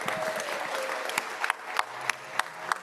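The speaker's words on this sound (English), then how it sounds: "So give her a nice round of applause for that" A small audience at a community board meeting applauds, a thin patter of clapping with several sharper, distinct claps standing out near the mic, fairly quiet overall.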